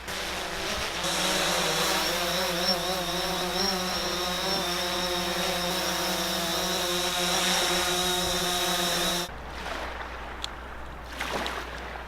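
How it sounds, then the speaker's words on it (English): A DJI Phantom 4 Pro drone hovers and flies overhead, its steady high-pitched propeller whine droning continuously for several seconds before cutting out, leaving quieter outdoor ambience with faint wind. "Josh is trying to line up the DJI drone above his camera to get the nice shot of it going straight up"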